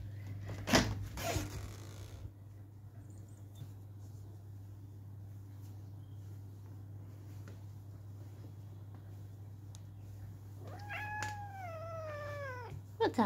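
A cat gives a cross, rising-and-falling meow, one drawn-out call near the end after a long quiet stretch, heard close up over a steady low hum; a soft voice-like sound comes early on.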